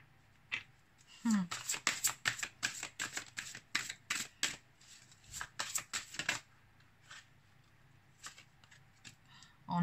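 Tarot cards are shuffled close by in a run of quick, crisp riffling bursts, then a few sparse taps as the shuffling slows and stops.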